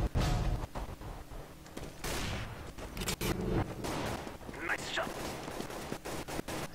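Single-fire shots in the video game Counter-Strike: Global Offensive crack out in quick, separate bursts over constant game noise, with someone briefly speaking.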